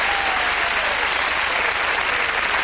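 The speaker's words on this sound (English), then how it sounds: "Give him a round of applause, the pair of them" Steady, dense applause from a studio audience on the game show Blankety Blank, loud and continuous, with a faint tone running underneath.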